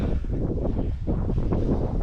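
Strong wind gusts buffet the microphone in a steady roar, swelling and easing slightly with no one talking.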